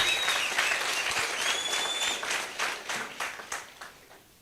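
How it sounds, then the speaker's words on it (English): Audience at a university young entrepreneurs business summit breaks into hand clapping, a moderately close burst of applause that thins out and fades toward the end. "Give a major hand clap of appreciation to our VC for a fatherly heart"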